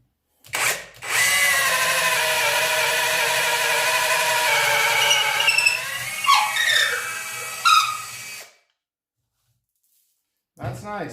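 A Parkside Performance PKHAP 20-Li cordless hammer drill runs loud and close for about eight seconds in a steady whining drone that bends and squeals as the bit works. It then cuts out to silence before a short burst of handling noise.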